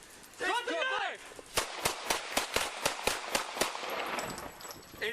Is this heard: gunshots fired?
yes